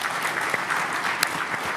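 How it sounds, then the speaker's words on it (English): An indoor conference audience claps for the panelists, giving a brief burst of dense applause from a crowd throughout. "So once again, a big round of applause to our fantastic panelists."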